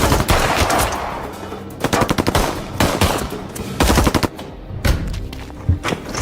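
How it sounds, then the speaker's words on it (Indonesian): Rapid bursts of automatic gunfire and single shots crack out repeatedly in a brutal film shootout where twins gun down two henchmen, loud and close with brief gaps between volleys. "Dugaan Brian terbukti benar ketika si kembar kembali dan menembak dua anak buah Hector secara brutal"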